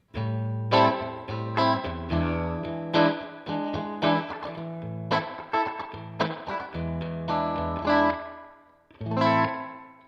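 Electric guitar playing a run of chords and picked notes through the Helix's Hot Springs spring reverb, drenched in a bright, bouncy reverb that lingers after each strike.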